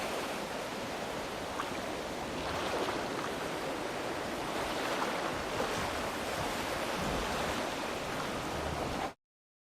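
Ocean waves in the video game Alice: Madness Returns wash in a steady, continuous roar of surf with wind-like hiss, fairly loud and unbroken, with no talk over it.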